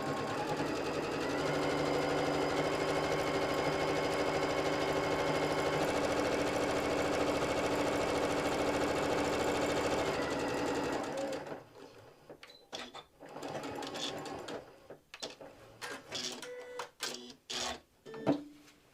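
A sewing machine runs in a long steady whir while stitching fabric hostess gifts, then breaks into short stop-start bursts of stitching and clicks.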